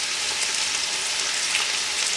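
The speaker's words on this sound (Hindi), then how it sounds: "तेल को आप करते हैं गरम, इसमें आप ज़ीरा डाल देते हैं, साथ ही इसमें अनियन डालते हैं" Onions and cumin seeds sizzle in hot oil, producing a steady, loud, close-up frying hiss with a dense crackle and no voices.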